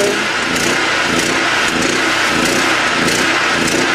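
A small generator running on HHO gives a continuous, loud, rough mechanical drone with a steady engine chug, close by and uninterrupted for the whole stretch.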